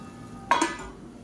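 Egg masala curry stirred in a pan, a single short scrape and clink of the spoon against the metal rising and fading within a second, close and fairly quiet with no talk.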